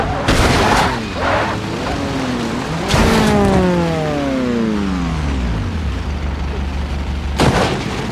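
A Volga Gaz 24 accelerates hard in BeamNG Drive, its engine tone sweeping upward in rising harmonics between loud booming impacts at the start, in the middle and near the end.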